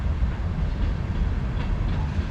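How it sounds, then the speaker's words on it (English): A long freight train rolls past near the Sloss Furnaces site, producing a continuous heavy rumble with faint clatter from the cars, steady and close, with no speech over it. "A long train there."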